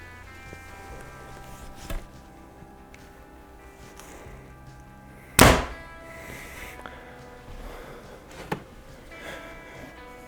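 A Darton Veracity bow is shot in a backyard, with one sharp, loud thunk of an arrow striking the target and a couple of fainter knocks around it.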